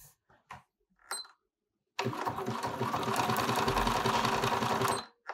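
A few soft clicks and pauses, then a Bernina sewing machine runs for about three seconds, whirring and rattling rapidly and evenly close by as it stitches a manual buttonhole before stopping.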